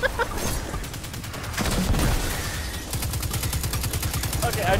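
Heavy weapon fire in the shooter game Destiny 2 rattles in fast repeated bursts, loud and sustained with barely a pause, layered over battle noise and game effects.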